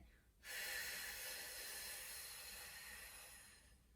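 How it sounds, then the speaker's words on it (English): Slow, deep exhalation during a pregnancy core exercise, a sustained breathy hiss that lasts about three seconds after a short pause, close to the mic and heard alone. "I'm breathing in, belly out, breathing out, belly in"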